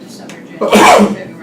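During a committee meeting, someone sneezes once in a sharp, loud burst that breaks into a person's ongoing speech.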